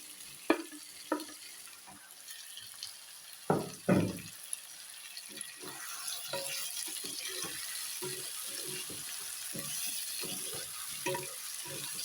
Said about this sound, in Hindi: अब इसमें मैं फ्राई फूल गोभी और आलू जो है वो दे देती हूँ